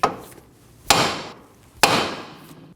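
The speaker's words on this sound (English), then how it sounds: "Using a hammer, tap on the side of the knuckle where the tie rod goes in" Two sharp metallic hammer strikes against the steel steering knuckle of a 2008-2015 Scion xB, a second apart, each ringing briefly before fading; a faint tap comes first.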